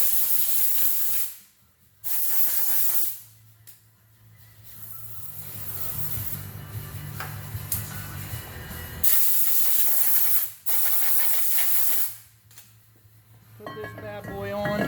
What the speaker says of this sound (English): I always spray off the new rotor.